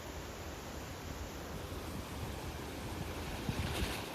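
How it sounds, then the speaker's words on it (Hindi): Water tumbles down a mountainside beside the Manali highway during monsoon, a steady, broad rushing roar that swells slightly toward the end, with no voices. "वहां से पानी गिरता हुआ आ रहा है।"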